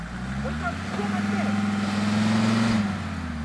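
An old car's engine revs steadily while it strains to pull free of the mud, a loud, sustained drone that swells toward the end, with people talking over it.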